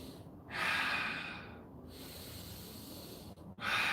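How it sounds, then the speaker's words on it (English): Long, deep breaths drawn in and pushed out through the nose during a home workout session, with two slow, airy inhale-exhale cycles that are close and steady and have no talking. "Take 3 more powerful long inhales and exhales."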